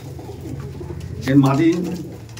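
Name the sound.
Abluk pigeons cooing while held in hand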